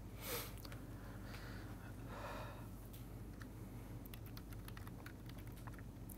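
Someone types on a computer keyboard in a steady run of quick, close keystrokes, with faint breaths and sniffs mixed in and a constant low hum underneath.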